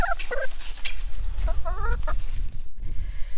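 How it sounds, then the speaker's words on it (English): Backyard chickens cluck and squawk nearby while pecking at a half-frozen watermelon, short bursts of calls over a busy, rustling background. "So Tim is feeding the chickens a watermelon that we had for Christmas that actually got stuck up at the back of the fridge and half froze"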